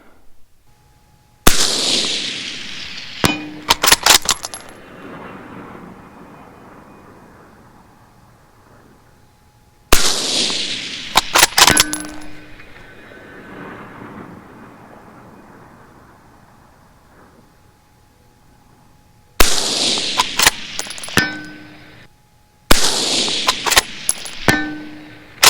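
An UPR-10 rifle in 6.5 Creedmoor, loaded with 140 grain Barnes bullets, fires at a steel target: four sharp, loud shots spaced several seconds apart, each followed by a quick metallic ring from the distant steel and a long decaying echo.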